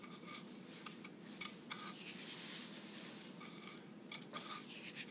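Onion ring rolled and pressed through dry breadcrumbs by hand, making a steady, close scratchy rustling with repeated gritty rubbing strokes and faint clinks from a dish; no one talks.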